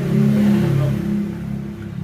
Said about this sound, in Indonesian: Jadi ada motor lewat di pinggir jalan saya.